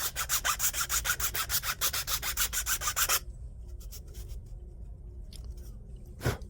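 A hand file rasps rhythmically across a 3D printed plastic part, roughly a dozen quick close strokes, then it stops and a few faint handling clicks and one sharp scrape follow.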